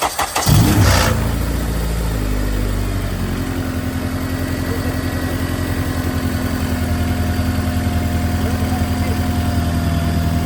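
A Honda Civic EJ8 with a swapped K24 engine cranks and fires up, a short loud starter burst settling into a steady, even idle that runs on for several seconds.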